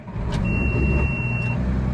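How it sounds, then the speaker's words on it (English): A farm tractor's engine cranks and turns over, a steady low rumble running close and loud for about two seconds with no voices. "I'm trying to start our tractor."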